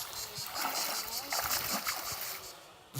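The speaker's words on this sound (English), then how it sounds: "sound of water is much more evocative than the image of water itself" Water splashes and sloshes at a holiday spot, with irregular bursts and trickling spread over a few seconds at moderate level. Bright splatters rise and fall, then ease toward the end.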